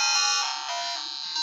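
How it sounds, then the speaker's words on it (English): A Game Boy Color powers on to the Nintendo logo and sounds its startup beep, a bright, loud electronic chime ringing with sustained harmonic tones for over a second and a slight swell in the middle, with no talking. "when it gets that Nintendo beep"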